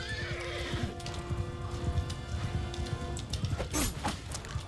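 Horse galloping and neighing in the Mount & Blade 2 Bannerlord video game during a field battle: steady clip-clop hoofbeats under loud whinnies, with busy battle noise throughout.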